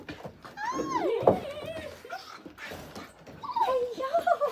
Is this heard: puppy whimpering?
yes